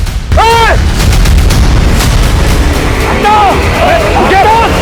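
Loud gunfire in a crime drama, with heavy sustained shots and bangs filling the scene, mixed with shouting voices.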